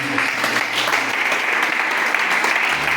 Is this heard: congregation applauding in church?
yes